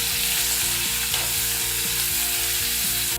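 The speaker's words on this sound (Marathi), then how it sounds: "एक नग बारीक चिरलेला कांदा घ्यायचा आहे लालसर परतून घ्यायचं आहे" Finely chopped onion fries in a pan with a constant dense sizzle and light stirring, heard under steady background music.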